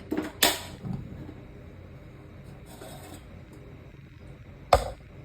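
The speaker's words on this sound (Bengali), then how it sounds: "এখন আমি ফ্রাই প্যান নিয়েছি" A frying pan is picked up and handled in a home kitchen while chicken with whole fenugreek is being cooked. It gives two brief metallic clanks, one near the start and one near the end, over quiet background.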